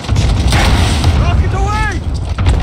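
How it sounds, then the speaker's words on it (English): Cluster strike artillery in Call of Duty Modern Warfare 2019, on a harbor map: a dense, loud barrage of booming explosions and gunfire rumbling continuously, with in-game voice chatter mixed over the blasts. "Cluster strike away."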